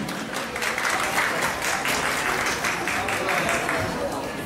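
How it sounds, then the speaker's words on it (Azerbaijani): An audience gives dense, sustained applause at the Ümid Hope 2020 children's art contest award ceremony, with a voice speaking over the clapping. "Bu qədər, bu qədər alqışlarınız."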